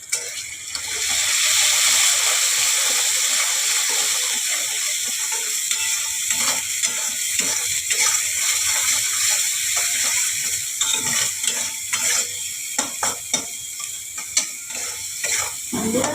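Spices frying in a pan for a vegetarian curry, a steady sizzle broken by scraping, clattering stirring with a utensil that grows busier toward the end, close and fairly loud with no talking.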